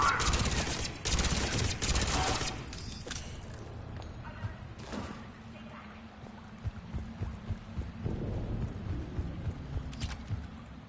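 Gunfire in Mass Effect 3 during a Reaper war battle: a dense opening volley of rapid shots, then scattered lighter bursts under rumbling combat ambience and music.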